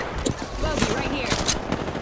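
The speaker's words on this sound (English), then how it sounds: "Getting shot at" Rapid automatic gunfire in an Apex Legends match on World's Edge, a dense run of sharp shots over busy game noise, loud and continuous throughout.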